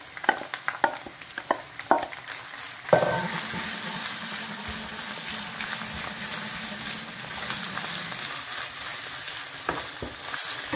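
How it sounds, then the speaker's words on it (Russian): Sauerkraut tipped into a pan with cooked onion, a clatter of stirring, then a steady close sizzle of frying that runs throughout, with a few utensil knocks and no talking. "Я высыпаю сюда кислую капусту."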